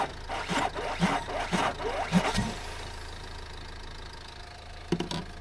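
An engine cranking and failing to start, several short rhythmic churning bursts up close followed by a low steady hum, then a brief final attempt.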